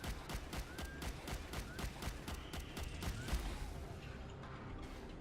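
Gunfire from a gun in the game Subterrain rattles in a fast, steady string of sharp shots, about a dozen evenly spaced cracks, then fades into lingering ambient rumble.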